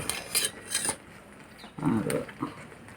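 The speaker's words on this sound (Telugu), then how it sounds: "ఇప్పుడు కొంచెం నెయ్యి వేయాలి మొత్తం అంతా కలిపి" A metal spoon scrapes and clinks against a pan while halva is stirred with ghee, in a few short, close bursts of fairly quiet clatter.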